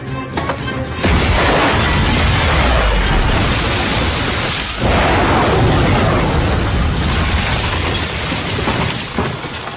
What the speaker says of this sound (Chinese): 一个炸弹在外面爆炸了